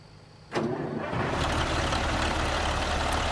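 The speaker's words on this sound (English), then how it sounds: "let's go and start the engine up here" The engine of a Kenworth W900A truck in American Truck Simulator cranks and catches after a brief quiet moment, then settles into a loud, steady, close diesel idle rumble.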